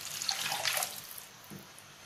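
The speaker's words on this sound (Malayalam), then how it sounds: "ഇനി നമുക്ക് ഇതിലേക്ക് 1 കപ്പ് വെള്ളം ഒഴിച്ചു കൊടുക്കാം" A cup of water pours into a pan on the stove in a short splashing gush that quickly tapers off, close and fairly soft.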